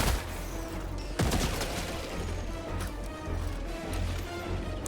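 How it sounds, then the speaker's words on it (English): A grenade goes off in Helldivers 2 as a sharp, loud crack about a second in, amid a dense backdrop of continuous gunfire and battle noise. "Throwing grenade!"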